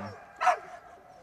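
A single short bark from an Alaskan sled dog, the lead dog of a racing sled team, heard once, moderately loud and close, against quiet snowy surroundings.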